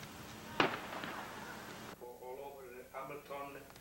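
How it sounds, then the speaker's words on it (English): Fireworks go off at the 1991 Feast of the Madonna Del Monte community festival: one sharp, loud burst with a crackling tail, followed by steady rumbling. A voice speaks over the later part. "The feast ends with a dramatic display of fireworks."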